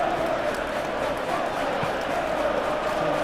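Football stadium crowd at an FA Cup semi-final between Manchester City and Southampton, a steady loud roar of many fans reacting approvingly to defending, broad and sustained.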